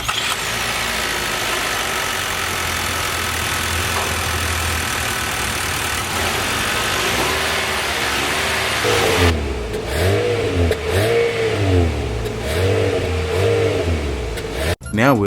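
A 2024 Nissan Altima SR with a 2.5-liter inline-four engine idles in a steady low hum, then revs in a series of rising and falling surges near the exhaust, ending with a sharp click.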